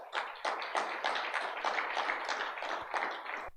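A church congregation applauds in praise, a steady wash of many hands clapping together at moderate distance, continuous for several seconds without speech.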